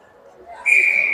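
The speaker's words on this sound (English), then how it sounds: "we will just get a whistle for offsides here" A hockey referee blows a whistle to call offsides during a game against the Milwaukee Admirals, one sharp sustained shrill blast rising over the faint arena murmur.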